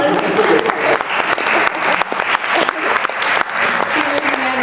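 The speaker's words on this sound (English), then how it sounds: "Round of applause." An audience at a school leadership presentation breaks into sustained clapping, fairly close and lively, with a voice briefly audible under it.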